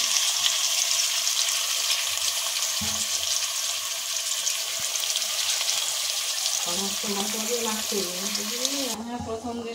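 Spice-coated hilsa fish sizzles steadily in a hot pan with lightly browned onion and chili, a continuous loud frying hiss, and a voice speaks briefly toward the end.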